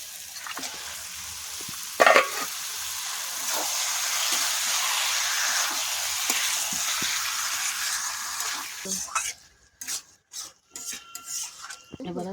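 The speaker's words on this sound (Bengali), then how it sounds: "তেল ছেড়ে গেছে, এবারে আমি মাংস দেব।" Chicken meat hits hot oil in a pan for a Bengali kock murgi curry with pumpkin stalks, setting off a steady, close sizzle with a sharp burst near the start, then stirring clatter of a utensil against the pot toward the end.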